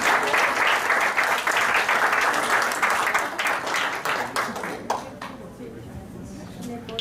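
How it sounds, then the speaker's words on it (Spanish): An audience at the INCmty 2016 entrepreneurship event in Mexico applauds to welcome a speaker, a dense, loud wash of clapping that fades out in the last couple of seconds. "Les pido lo recibamos con un caluroso aplauso."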